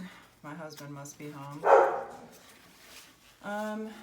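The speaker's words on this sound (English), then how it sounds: "Well, excuse my dog." A pet dog barks repeatedly nearby in a home, a quick burst of yaps followed by a later bark, with someone speaking between them.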